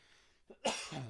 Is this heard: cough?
yes